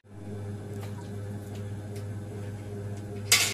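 An electric water motor pumps water for animals, giving a steady low hum that runs unbroken throughout at moderate level, with faint ticking and a brief hiss near the end.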